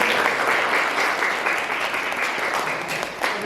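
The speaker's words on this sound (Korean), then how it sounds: "다시 한번 뜨거운 박수로 모시겠습니다" Audience applause fills the room at an artist talk as the speaker is welcomed on stage, a dense steady wash of many hands clapping at even loudness, dipping slightly near the end.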